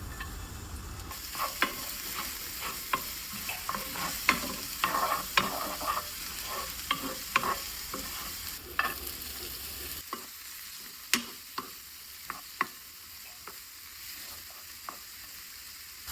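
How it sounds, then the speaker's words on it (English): Garlic sizzles and crackles in a little hot oil in a pan, with steady frying hiss and repeated scraping stir strokes throughout. The hiss drops away partway, leaving sharper, isolated stirring scrapes. "Cook them in a little oil until soft and fragrant."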